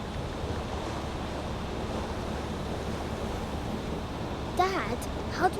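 Open-sea waves and wind buffet a sailing boat in a steady, loud rush, with a few brief voices breaking in near the end.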